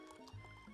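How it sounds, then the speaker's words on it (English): Wine poured heavy-handed into a glass, a brief close liquid gush with a low gurgle and splash, quiet, no talk over it. "That ASMR sound of pouring drink."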